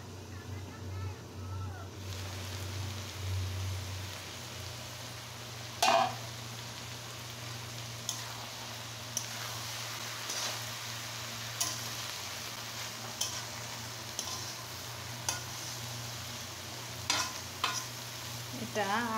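Onion stalk, potato and prawn bhaji cooking in a covered pan, a soft steady sizzle running underneath with occasional clinks and ticks from a utensil, while someone talks over it.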